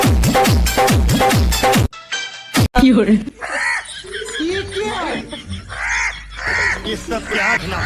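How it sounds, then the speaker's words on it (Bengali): A crow caws repeatedly in loud, harsh bursts right after a short stretch of music, with voices and chuckling mixed in around the calls. "এমন কাক কে কে দেখেছেন সে কমেন্ট করে জানাবেন"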